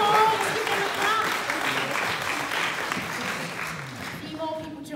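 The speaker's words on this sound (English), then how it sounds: "Let's give them a clap." Congregation members at a church gathering clap for newcomers, a fairly loud patter of many hands that slowly thins out, with a few voices murmuring and briefly speaking through it.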